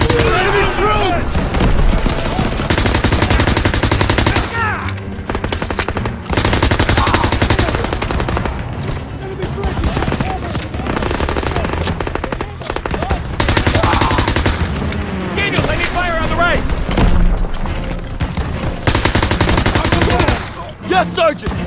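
Gunfire in the Call of Duty World at War sniper mission, dense bursts of rifle and machine-gun shots in loud repeated volleys, mixed with battle noise and shouted commands, continuing almost without pause.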